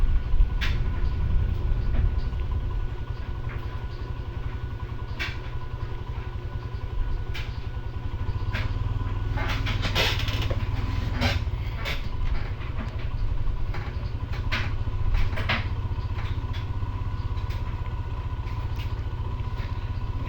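A Royal Enfield Himalayan BS6 adventure motorcycle with its 411 cc LS410 long-stroke engine, riding at a steady relaxed pace, giving an even low drone mixed with wind and occasional clicks and bumps.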